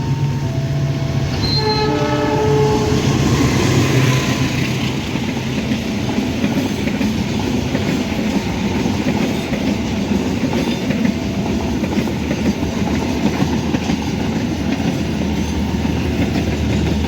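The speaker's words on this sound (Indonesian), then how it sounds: "kereta api Argo Dwi Pangga masuk Yogyakarta tujuan Solo Balapan" Argo Dwi Pangga passenger train arriving at Yogyakarta station, a loud, steady rumble of rolling wheels and carriages close by, with a brief horn-like tone early on, continuing without voices.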